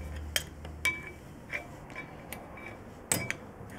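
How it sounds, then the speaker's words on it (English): A flathead screwdriver pries stuck front brake pads loose on a 2009 GMC Canyon or Chevy Colorado: a few sharp metallic clinks and taps at irregular intervals, fairly quiet and close, with no talk. "if they're a little stuck, kind of like mine, you just want to take a flathead screwdriver to help you pry it out"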